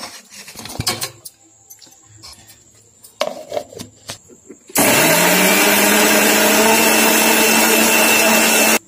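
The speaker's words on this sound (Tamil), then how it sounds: "மிக்சியில் போட்டு." Kitchen clatter at first, then a mixer grinder starts loudly grinding onion and tomato, running with a steady, high-pitched whirring roar until the end.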